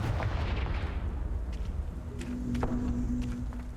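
Confringo fire spell cast in the video game Hogwarts Legacy, heard as a deep rumbling blast with crackling burst, followed by lighter impacts and a brief tonal hum.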